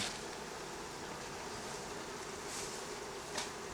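A swarm of bees hums in a steady, faint buzz around a hive, continuous and unbroken, with a brief louder rise near the end and no voices.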